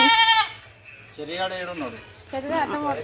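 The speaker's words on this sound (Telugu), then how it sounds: "మేకలు వచ్చినాయి" Goats bleat in short wavering cries, one at the start and more after a pause, close by with faint background noise.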